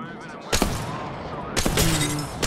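Bursts of gunfire in Apex Legends, two sharp volleys about a second apart, loud and close, with game sound effects around them.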